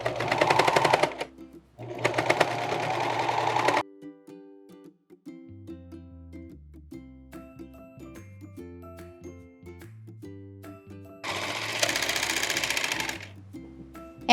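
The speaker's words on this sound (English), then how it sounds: "I'm gonna go ahead and serge the whole entire hem of this dress right now" A serger overlocks the hem of a dress in three loud, steady whirring bursts, each lasting a second or two, with soft background music continuing in the pauses between them.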